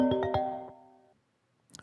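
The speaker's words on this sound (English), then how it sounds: "Getting a phone call, but I can't answer." An incoming call's phone ringtone plays a few quick chiming notes that ring out and fade, followed by a brief faint rustle.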